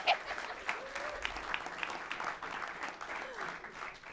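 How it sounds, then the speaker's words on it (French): Audience applause fills a live comedy show, a dense steady wash of clapping from a crowd lasting several seconds at even strength. "On l'applaudit."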